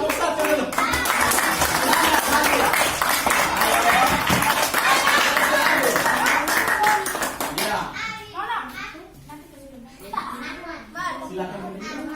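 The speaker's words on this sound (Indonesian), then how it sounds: "Ayo berikan tepuk tangan kelompok 1 dulu." Children in a classroom clap and applaud for a presenting group, a dense, lively burst of hands lasting several seconds before fading into scattered claps and kids' chatter.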